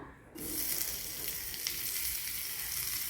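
Onions drop into hot oil in a pan and set off a sudden, continuous bright sizzle that stays loud and steady, with no talking.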